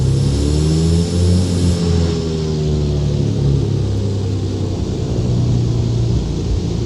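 A propeller aircraft engine in X-Plane 11 at Innsbruck drones loudly with strong tonal harmonics that shift in pitch as it revs, steady and close with no voices over it.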